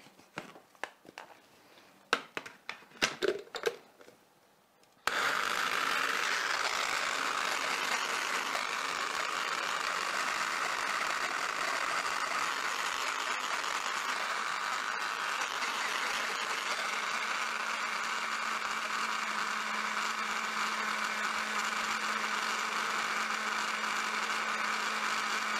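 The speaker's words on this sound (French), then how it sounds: "Donc on va commencer par mixer les fruits, voir ce que ça donne en consistance" Blender whirring through raspberries for a fruit mix, a few short clicks and handling noises first, then a loud steady motor roar starting abruptly and running continuously to the end.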